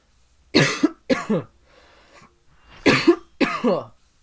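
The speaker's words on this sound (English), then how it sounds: "it hurts to cough with a broken rib." A person with a broken rib coughs hard in two pairs, each a harsh double cough, close by, separated by a brief quiet stretch with a faint murmur.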